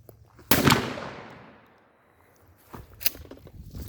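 A shotgun fired with 16-pellet 00 buckshot through a Carlson choke outdoors, one sharp loud blast that rings out and fades over about a second, followed by a weaker second bang and scattered lighter knocks.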